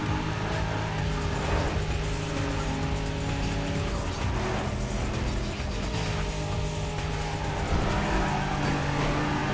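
A race car in the Need for Speed ProStreet racing game drives at full throttle with a loud, steady engine roar and squealing, skidding tires, running continuously without talk.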